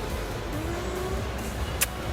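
A car driven fast, with a steady road and engine rumble from inside, a rising engine note and a brief sharp click near the end, fairly loud and continuous.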